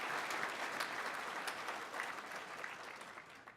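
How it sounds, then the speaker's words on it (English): An audience at a banquet speech applauds, a dense, even wash of many hands clapping that holds steady and then eases off slightly toward the end, heard at a moderate distance with no speech. "Give them a round of applause"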